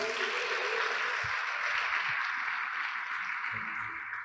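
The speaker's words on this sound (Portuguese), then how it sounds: "Dê mais um aplauso ao Senhor." A church congregation claps in sustained, dense applause that stays fairly distant and soft, with a few scattered low thumps beneath it.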